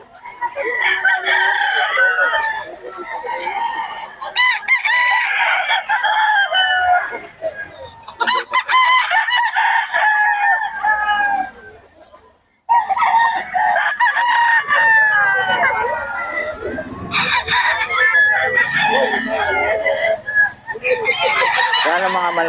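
Roosters crow repeatedly over steady clucking from a flock of chickens kept for sale, the calls dense, loud and overlapping throughout with only a brief lull midway.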